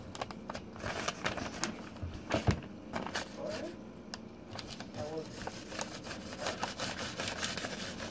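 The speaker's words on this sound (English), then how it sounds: "we're just gonna fillet that off like you would any other fish" A somewhat dull knife fillets a pickerel, making repeated scraping, sawing strokes against flesh and bone while a person talks over the work.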